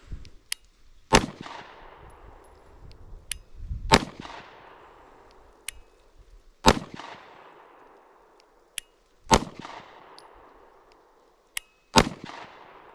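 A pistol fires five rounds at a shooting range, sharp loud cracks spaced a few seconds apart, each trailing off in a brief echo, with quiet between the shots.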